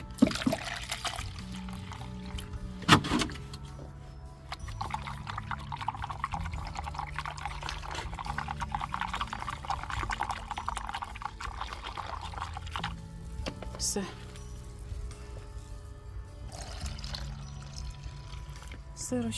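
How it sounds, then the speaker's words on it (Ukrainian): Water pours steadily into a garden sprayer tank being mixed with a urea solution for treating an orchard, a continuous trickling fill running for most of the stretch, with a person talking over it. "зараз я теж додам водички"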